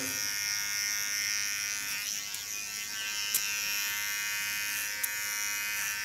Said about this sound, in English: Then go back to do it with clipper.